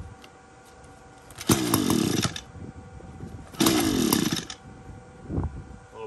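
Echo string trimmer, flooded and refusing to start, gives two brief pull-start bursts, each a loud engine sputter lasting under a second, separated by quieter pauses and followed by a short third rasp.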